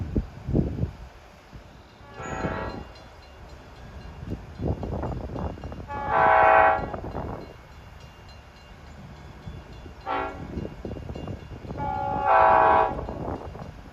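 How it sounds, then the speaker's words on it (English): A K5LA horn on Long Island Rail Road engine 521 sounds several long chords, loud and nearby, repeating in pairs of blasts over the rumble and clatter of a passing train. "K5 LLA horn."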